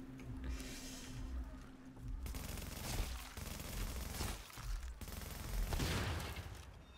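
M4 assault rifle fire in the shooter game The Division: dense bursts of automatic shots clattering in fast runs across the whole span, loud and close, with brief gaps between volleys and a faint voice underneath.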